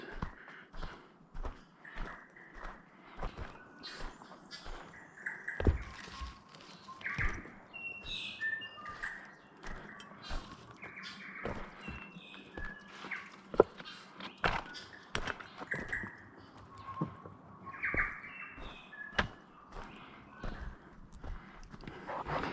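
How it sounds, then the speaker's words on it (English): Scattered bird chirps and calls over a steady outdoor background, with frequent sharp knocks and clattering sounds throughout. "Just listening to the birds."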